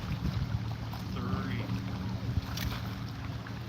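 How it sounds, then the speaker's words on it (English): Wind blowing outdoors during a photoshoot, a steady low buffeting rumble across the microphone that swells slightly at moments and runs throughout. "I know the wind is blowing."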